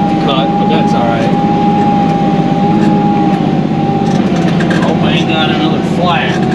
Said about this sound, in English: With the tractor in the woods today